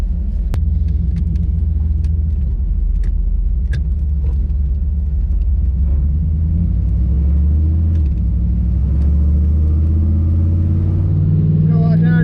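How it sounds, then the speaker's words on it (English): A 4th gen Pontiac Trans Am cruises down the road on new, unbalanced tires. The interior is filled with a steady, loud low rumble of engine and road noise, and people talk over it. "test out these new tires and see if they shake, rattle, or roll, because I did not balance them"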